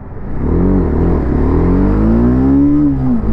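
A TVS Apache RR310 motorcycle, a 2025 trellis-frame race bike, accelerates hard through its gears. The engine note climbs and drops with each shift and stays loud and close throughout.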